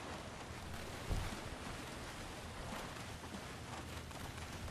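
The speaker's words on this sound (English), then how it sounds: "Hearing the splashes of the wheels as we go." Splashing wheels of a craft moving through water in a video game, heard as a steady wash of rushing water and wind-like noise, fairly faint and continuous, with one brief thump early on.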